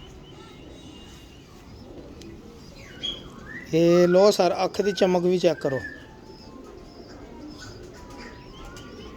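A Lakhy breed pigeon gives a short burst of throaty, rhythmic cooing midway through, close and fairly loud, while someone speaks nearby against faint background noise.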